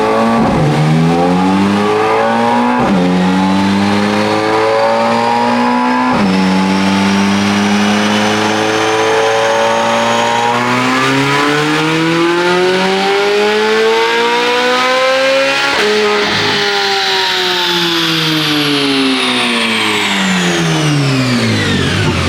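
A 2023 Chevrolet C8 Corvette Z06 on a dyno running 93 octane pump gas, revving loud and close through repeated rising pulls, the engine note climbing to a high shriek with brief drops between gear changes.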